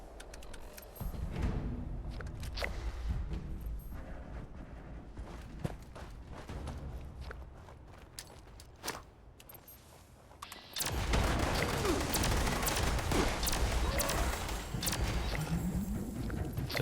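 Grenade launch and gunfire in Fallout 76, with a sustained burst of loud, dense combat noise after a stretch of lighter action sounds and footsteps.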